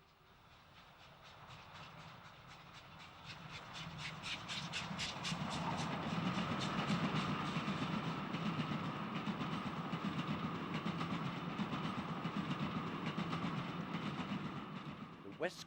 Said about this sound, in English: The script called for a number of express trains to run through non-stop